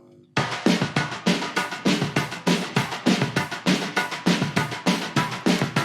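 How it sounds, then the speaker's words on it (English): Drum track from a song, with a steady chugging guitar woven in: loud, punchy hits repeating in a tight, even rhythm after a brief quiet start, full and close with no voices. "We're gonna jump right in with the drums, and the drums sound like this."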